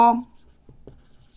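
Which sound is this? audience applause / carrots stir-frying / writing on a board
writing on a board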